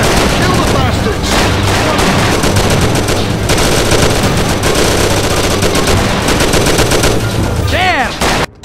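A Mafia shootout erupts in loud, dense automatic gunfire and overlapping bursts of shots. The barrage continues almost without a break before cutting off abruptly at the end.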